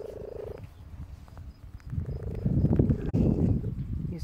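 Close, raspy breathing of a sick cat with a low rumbling, congested purr-like rattle that swells louder toward the end.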